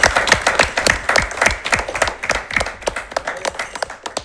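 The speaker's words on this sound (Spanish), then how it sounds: "Un aplauso para estos atletas" Athletes being applauded by an audience: loud, fast individual claps close by, layered over a broader crowd clapping, continuous and rhythmic throughout.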